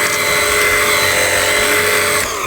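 A Cobra PW18024V battery pressure washer runs on its turbo setting, giving a loud, steady motor whine with spray hiss that holds without a break and then eases slightly near the end.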